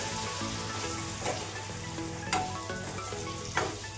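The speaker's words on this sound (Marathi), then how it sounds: "आणि वांगे असं छान परतून घ्यायचे आहेत." Masala-stuffed brinjals sautéing in a pan, a steady close sizzle with occasional scraping stirs and small clatters of a spatula; no voices.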